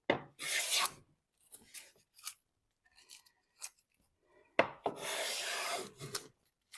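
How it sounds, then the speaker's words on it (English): A Stanley No 37 hand plane shaves old pine in several close, rasping strokes of varying length separated by quiet pauses, the last stroke long and full. "that is a pretty good shaving in some really old pine"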